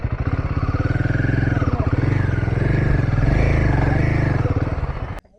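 Royal Enfield Himalayan 450 motorcycle riding an off-road trail, its engine a loud, close, steady pulsing thrum with slight pitch shifts and rattling clatter, cutting off abruptly near the end.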